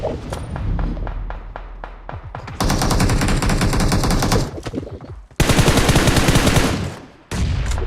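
Rapid automatic gunfire from a video game, with loud sustained bursts broken by short pauses and a few quicker single shots at the start, close and without talk.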